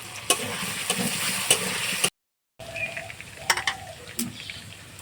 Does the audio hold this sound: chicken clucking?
no